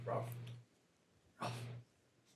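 A dog gives two separate short, fairly faint barks or yelps about a second apart, with quiet between them.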